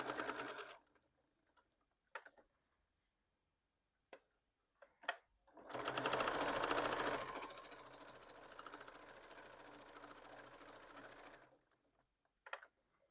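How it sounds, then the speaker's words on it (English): A sewing machine stitches a Tula Pink pencil case pouch: a few isolated clicks, then a sustained loud mechanical whirring run of several seconds that tapers off, followed by a final click, close up. "Sew this one on."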